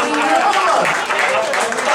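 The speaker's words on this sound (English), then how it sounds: "round of applause for that one" A comedy-night crowd at The Vic pub in Swindon breaks into close, loud applause with some cheering mixed in, a continuous burst of claps filling the room.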